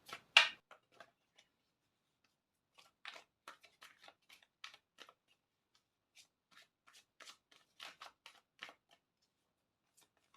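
Tarot cards being shuffled by hand: one loud riffle at the start, then a long run of quieter, scattered papery flicks and slides close by, with no talking.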